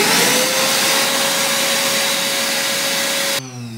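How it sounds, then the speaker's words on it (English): A Hoover vacuum cleaner runs indoors with a loud, steady whining roar, then cuts off abruptly near the end, leaving a quieter winding-down tail. "I'm gonna turn the Hoover on now, so you might not hear me."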